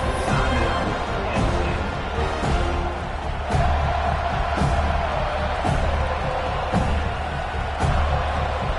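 A home crowd at a football game roars steadily throughout, a dense wall of cheering and shouting with periodic sharp accents, while a commentator's voice sits faintly in the mix.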